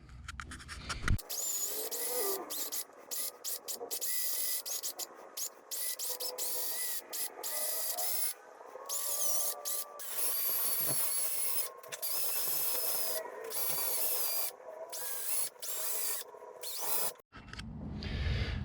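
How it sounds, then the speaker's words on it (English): Pieces of 2x4 wood being sanded with a power sander in a small workshop, giving harsh, bright scratchy bursts that start and stop repeatedly, fairly close, with no talking. "let me get them sanded."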